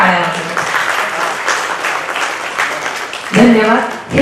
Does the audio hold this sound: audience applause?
yes